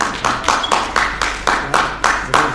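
An audience at an Urdu ghazal poetry gathering claps in a steady, even rhythm, eight or nine sharp, loud claps in a row with no voices over them.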